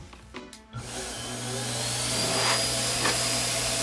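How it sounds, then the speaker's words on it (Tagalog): A blower dries wax on a man's eyebrows; after a brief clatter it starts up and settles into a loud, steady whirring roar that holds for several seconds. "Kuha lang tayo ng blower para matuyo ang..."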